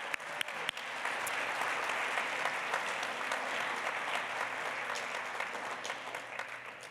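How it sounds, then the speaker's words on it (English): A conference audience gives a long, even round of applause at a closing session, a few sharp claps first, then a steady, somewhat distant wash of clapping with no talk. "Let's give them all a big round of applause to say thank you"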